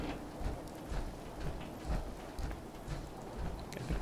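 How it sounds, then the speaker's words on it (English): Steady rain falls in the video game Fallout 4, a soft, even patter with gentle rhythmic swells and nothing else over it. "I can appreciate those raindrops."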